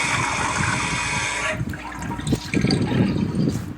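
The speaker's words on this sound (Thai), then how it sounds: "เสียงกดชักโครกดังมาก" A toilet flush in a video game: a loud rushing burst for about a second and a half, then it drops to quieter gurgling, trickling refill water.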